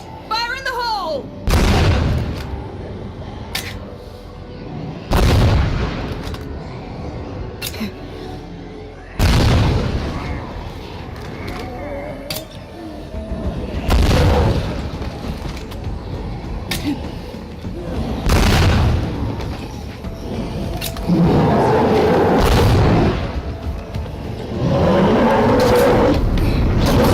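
Explosions and gunfire in State of Decay 2: several heavy booming blasts at irregular intervals with rumbling tails and bursts of shots between them, while a voice talks over parts of the clip.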